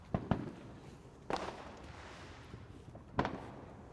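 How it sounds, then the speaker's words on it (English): Fourth of July fireworks go off outside at night, a few sharp distant pops and bangs spaced apart over a low, steady background hum. "You're gonna hear probably fireworks and stuff because there are people outside shooting off fireworks."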